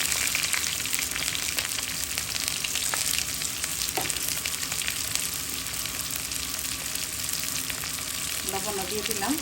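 Hilsa fish cooks in a pan with cumin and mustard paste, making a loud, continuous close-up sizzle that holds steady from start to finish, with a few faint stirring knocks near the end.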